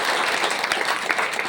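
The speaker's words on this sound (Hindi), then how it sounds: "एक बार जोरदार ताली बजाएंगे इनके लिए" A seated audience at an Indian business plan meeting claps together in a short, dense burst of applause, a continuous rattle of many hands close by.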